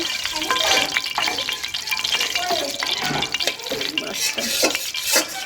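Oil sizzling on a hot griddle for frying catla fish, a steady dense crackle and hiss with scattered pops and clinks, close and fairly loud throughout.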